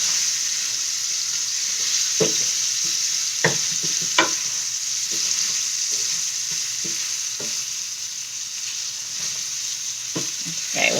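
Food fries in a hot pan with a constant bright sizzle, punctuated by sharp clinks and scrapes of a utensil stirring it at irregular intervals, close and steady throughout.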